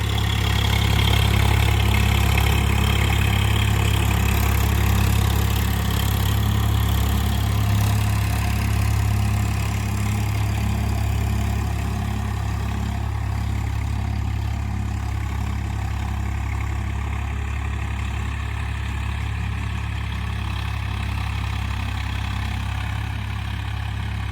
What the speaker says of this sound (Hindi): बहुत प्यारी आवाज़ निकाल रहा है ट्रैक्टर।